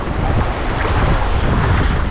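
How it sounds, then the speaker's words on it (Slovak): Sea waves wash steadily onto the beach at Ghadira Bay in Mellieha, Malta, with strong wind buffeting the microphone in a continuous loud roar and no voices. "tu sme takto na tej pláži"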